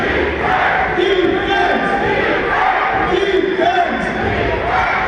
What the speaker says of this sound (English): You can hear the crowd yelling defense